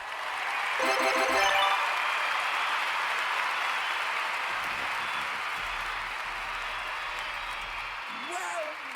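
Applause rises from a group as a steady wash of clapping that lasts the whole stretch, loudest near the start, with voices talking underneath.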